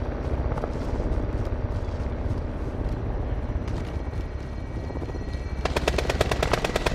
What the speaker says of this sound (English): Helicopter incoming.